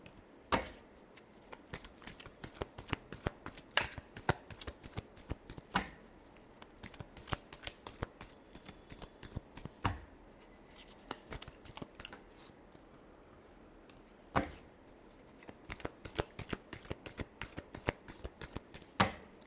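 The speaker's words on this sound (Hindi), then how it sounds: "Last shuffle." Tarot cards are shuffled continuously at close range, a steady stream of crisp flicks and slaps with a few louder snaps, quiet overall and with no speech.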